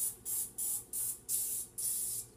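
Cooking spray hisses from a can in five quick, evenly spaced bursts, each a short bright spray with brief gaps, close and moderately loud.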